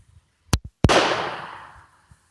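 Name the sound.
Webley Mk V revolver shot fired single action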